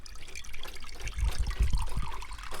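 Water trickles and drains steadily through an orchid pot's bark and charcoal growing medium, a close, continuous wet gurgle with soft low splashes.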